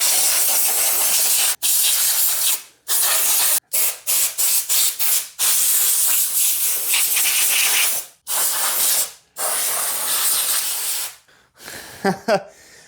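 Small shop compressor air nozzle blowing dirt off parts of a Harley chopper project, loud close bursts of hissing air cutting on and off repeatedly, with a brief clatter near the end.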